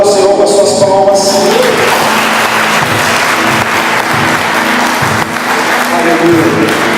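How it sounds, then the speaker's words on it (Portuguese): A church congregation claps their hands loudly in praise, a thick continuous roar of palms. A brief tonal sound fades at the start, and voices mingle in the clapping. "Você pode exaltar o Senhor com as suas palmas."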